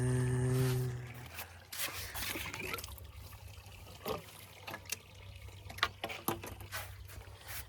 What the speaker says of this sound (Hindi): अभी पानी सारा निकल जाएगा आराम से